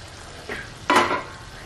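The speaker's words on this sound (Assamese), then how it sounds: "মাংসটো ভাজি ভাজি ইয়াৰ পৰা তেল ওলাই গৈছে" Pieces of mutton fry in oil in a pan, heard as two short sizzling bursts from stirring, the second louder, over a quiet hiss with no talk.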